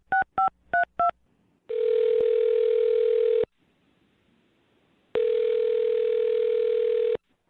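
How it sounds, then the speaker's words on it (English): Four quick touch-tone beeps, then two long steady ringback tones separated by a pause of silence, clear and close. "I'm dialing her phone number right now."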